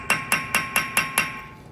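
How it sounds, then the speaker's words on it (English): A hammer knocks on a rusty brake caliper bolt during a front brake replacement on a 2010-2020 Kia Optima or Hyundai Sonata. There are six sharp metallic taps at a steady, even rhythm, close and clear. "I hammer that a little bit."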